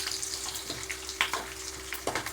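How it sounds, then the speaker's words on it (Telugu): Peanuts frying in hot oil in a pan, a soft continuous crackle and hiss with scattered brief pops, close by and fairly quiet, with no voices. "ఇప్పుడు మనం కొద్దిగా పల్లీని కూడా ఫ్రై చేసుకుందాం."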